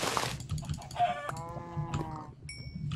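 Chickens clucking in Minecraft, several short, close game-style clucks and warbling calls in quick succession, followed by a brief high chime-like game sound, with no talking.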